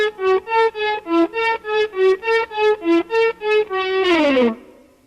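Electric guitar lick with every note faded in by the volume control and no echo, about a dozen evenly spaced swelling notes ending in a bent, fading slide, close and alone.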